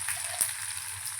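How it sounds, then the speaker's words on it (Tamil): Ingredients sautéing in a pan for thoodhuvalai kuzhambu, a soft continuous sizzle with a faint stir or tap partway through, brief and close. "இப்போ இது கொஞ்சம் வதங்கட்டும்."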